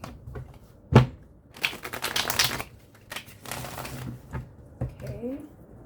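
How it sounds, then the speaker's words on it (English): A large deck of cards is riffled and shuffled by hand in a sequence of brisk bursts of papery flutter and snapping, with a person talking in between. "I'll do one more shuffle."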